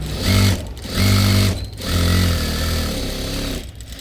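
A sewing machine double-stitches the front part of a blouse in several close bursts of rapid whirring separated by short pauses.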